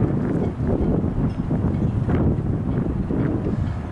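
Gusty wind over a bay buffets the microphone in a continuous loud rumble, rising and falling in waves with no voices.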